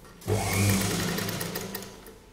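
A sewing machine runs steadily for about two seconds, stitching the joint between two placket strips on an embroidered kurta. Its motor hum is loud, close and continuous, with no talk over it.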